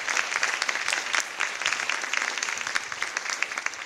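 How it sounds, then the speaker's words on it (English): An audience at an artist talk applauds steadily, a dense, close wash of hand claps with no voices over it. "Big applause."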